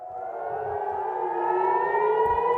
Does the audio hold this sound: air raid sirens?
yes